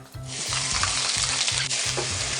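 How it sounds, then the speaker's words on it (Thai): A paste of pounded coriander root, garlic and pepper is stir-fried in a wok with leftover oil. It makes a loud, even sizzle with rhythmic scraping strokes from the spatula, close and alone. "ผัดให้หอมเลย"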